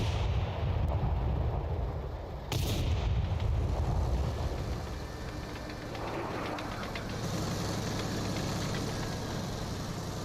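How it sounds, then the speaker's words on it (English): An artillery shell flies overhead in a video game, a loud, rumbling, broadband whoosh with a sharp burst early on, then a lower, steady roar that swells again toward the end. "I heard a shell go flying."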